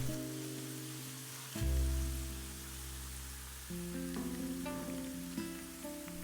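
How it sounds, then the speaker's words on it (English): Chopped okra frying in oil in a pan over medium-low heat, a soft steady sizzle and crackle heard under music, with no voices. "Add chopped bhindi and fry over medium-low heat for 10 minutes"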